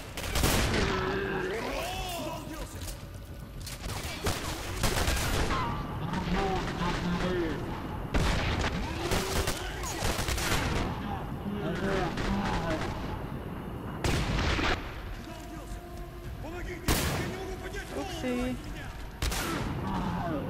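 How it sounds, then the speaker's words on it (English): Loud bursts of gunfire in the shooter game Singularity, repeated heavy shots and booms in uneven clusters, up close, with someone talking between and over the blasts. "Let's just keep shooting."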